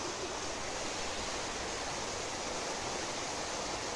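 Steady, dense rushing of a stream or waterfall at Balerno, a loud continuous broadband roar with no letup and no voices.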